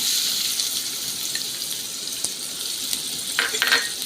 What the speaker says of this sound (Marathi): तेल चांगलं गरम झाल्यावर एक वाटी बारीक चिरलेला कांदा